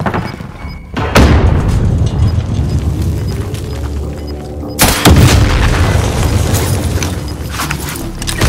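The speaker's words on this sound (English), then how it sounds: "grenade" Two loud grenade blasts go off in Warzone on Rebirth Island, each a sharp, close boom followed by a long rumbling tail that fills the pauses between them.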